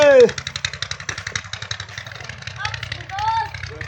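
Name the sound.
motorcycle engine idling being brought inside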